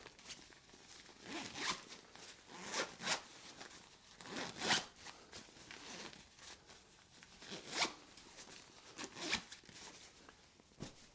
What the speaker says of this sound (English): Zip up the regular compartment, and then we'll move on to the compression.